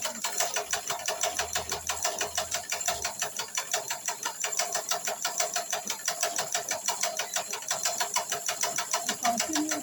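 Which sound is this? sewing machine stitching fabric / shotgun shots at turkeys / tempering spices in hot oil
sewing machine stitching fabric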